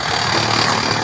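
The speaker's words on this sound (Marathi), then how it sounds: "हे बघा या ठिकाणी ट्रॅक्टर चालू आहे." A tractor engine running on a farm during silage making from maize, a loud, steady, close rumbling drone that holds without a break for the whole second.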